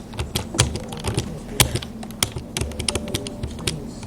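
Fingers tap out an irregular burst of keystrokes on a computer keyboard, close and crisp, with quick clusters and short pauses throughout and no talk.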